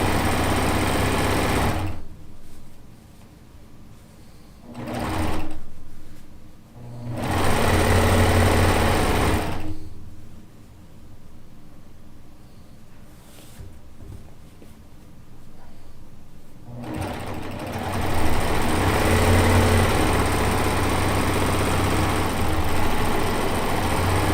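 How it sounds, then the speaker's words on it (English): A 4-thread or 3-thread overlock serger runs in loud, steady bursts, stopping and restarting several times with short quiet gaps between stitching runs, close by and with no talk. "you could also piece with an overlock, a 4-thread or a 3-thread overlock"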